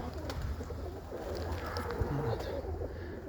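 Budapest pigeons cooing in an aviary, a steady murmur of low coos over dense background noise, with no clear talk.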